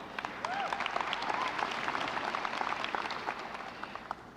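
Audience applause at a high school graduation ceremony held at Hofstra University, a steady wash of many hands clapping together throughout, with a faint voice or two under it.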